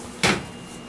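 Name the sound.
oil burner drawer assembly being slid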